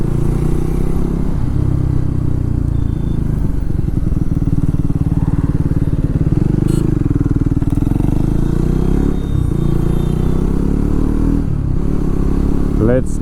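A Triumph Tracker 400 motorcycle engine idles and revs on a test ride, with a loud, steady low rumble that swells and eases in pitch, plus some clatter and wind noise, and no talk.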